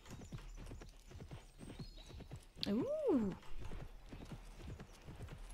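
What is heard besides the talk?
horses' hooves clip-clopping in the video game Imagine Champion Rider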